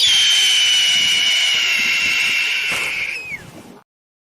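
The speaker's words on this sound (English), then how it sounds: "Here's your alarm." A loud, steady electronic alarm tone holds at a high pitch for over three seconds, then bends downward and cuts off abruptly.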